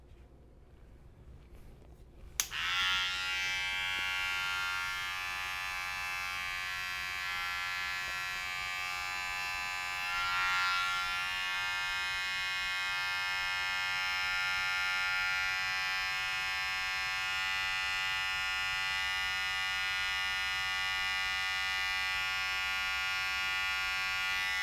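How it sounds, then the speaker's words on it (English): Electric hair trimmer buzzing steadily close by for a self-cut taper fade, switching on sharply after a brief quiet start and running continuously with a bright, harmonic whine that wavers slightly as it moves through the hair. "Let's grab my trimmer and let's just go around the C cup right in here"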